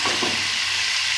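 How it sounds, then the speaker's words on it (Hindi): Garlic frying lightly in a pan for beef nihari, a steady close sizzle with no talking. "ये लहसुन हमने फ्राई किया हल्का सा"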